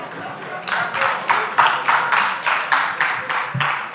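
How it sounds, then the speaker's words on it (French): An audience at a pastoral lecture on African religions claps in a steady, rhythmic beat, roughly three claps per second, sustained and fairly close, with no voices over it. "Je ne sais pas pourquoi vous applaudissez."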